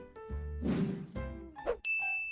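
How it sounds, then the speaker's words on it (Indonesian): An SMS notification chime sounds from a phone, with short ringing ding tones mixed among brief voice-like sounds and a clear sustained tone closing the moment. "SMS sudah masuk nih, tinggal klik linknya."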